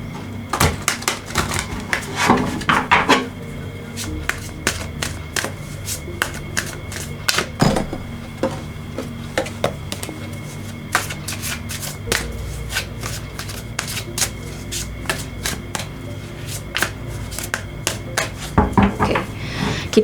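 Tarot cards shuffled by hand in a steady stream of crisp riffles and flicks, close and fairly loud, with sharper card snaps throughout and no talking.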